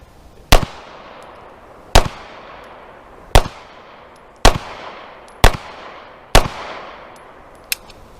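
Six or seven gunshots are fired through a fleece blanket at a target indoors. The sharp, loud reports are spaced about a second apart, and each one rings out with a decaying echo.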